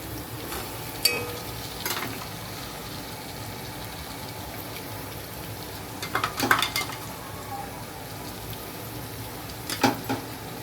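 Ginger garlic paste being stirred and fried in a pot for biryani, with steady low sizzling under scattered scrapes and clinks of a spoon against the pan, nearby and moderately loud.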